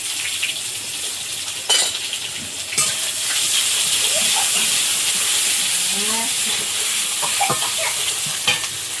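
Dry red chilli, bay leaf and whole cumin sizzle in hot oil, a loud steady hiss throughout with a few knocks and scrapes of a utensil, close up and without speech.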